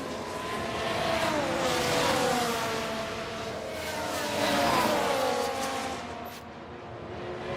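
Formula 1 race cars in F1 Manager 2024 scream past on the Spanish circuit, engines rising and falling in pitch as they pass in two loud sweeps, with a constant racing drone beneath.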